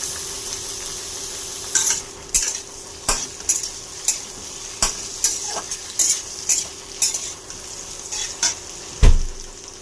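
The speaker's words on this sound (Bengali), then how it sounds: "আলুটা লাল করে ভেজে নেব" Potatoes and chopped onions stirred and fried in a pan, with a steady sizzle beneath repeated scraping strokes of a spatula at an even rhythm, and one heavier knock near the end.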